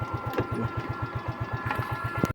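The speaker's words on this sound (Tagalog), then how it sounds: "Engine." A Yamaha Mio i 125 scooter engine, one with a battery that won't charge and a persistent check engine light, runs at a steady idle with a rapid, even low putter and light mechanical ticking, close by.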